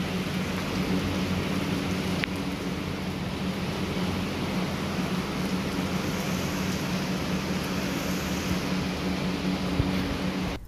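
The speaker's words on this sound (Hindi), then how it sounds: "अभी अचानक से ही हल्की सी बारिश शुरू हो गई थी" A sudden light rain shower falls outside a home, a steady broadband patter lasting throughout with a faint low rumble underneath and a couple of sharp drips or knocks, no one speaking.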